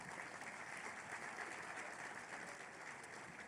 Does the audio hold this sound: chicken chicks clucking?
no